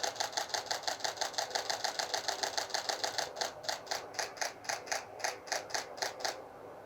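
A Nikon D7500 shutter fires in continuous high mode at 8 frames per second, a rapid, even train of mechanical clicks close up that slows a little toward the end.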